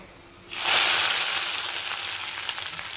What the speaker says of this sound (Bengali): আমি একটা কড়াইয়ে তেল দিয়ে দিয়েছি। এবার দিয়ে দেবো সয়াবিনটাকে।